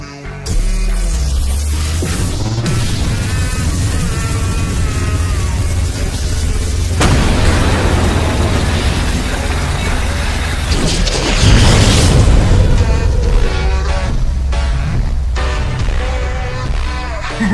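A deep, loud explosion boom from an animated fight between Ghost Rider and Khooni Baba, with heavy crashing bursts and rumbling effects that fill the whole stretch without pause.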